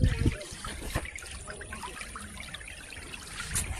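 Rushing, splashing water flowing steadily out of a dam, with a few louder bursts at the start and end.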